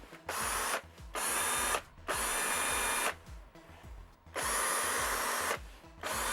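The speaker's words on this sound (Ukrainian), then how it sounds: "пробує мій вже давненький інструмент це шуруповерт" Cordless drill-driver powered by a Tekhmann i20 series battery, whirring in three long bursts with brief pauses between them, close and loud.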